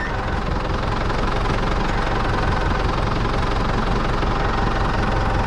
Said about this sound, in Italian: per prima cosa io direi di portare via il trattore